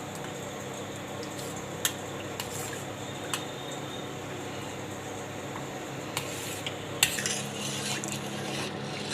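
Gram flour is stirred into a pot for a stuffed-chilli kadhi, with a soft scraping swish and a few sharp spoon taps against the metal, heard close and quiet, with no voices.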